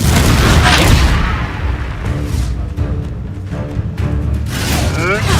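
A Confringo explosive spell goes off in a video game, a heavy booming blast that rumbles and decays, followed by further rumbling impacts under voices.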